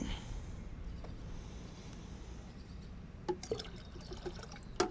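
Chlorine bleach is poured into a bucket of water while sanitizing a camper's fresh water system, giving a soft steady trickle and splash at close range, followed by a few sharp clinks and knocks toward the end.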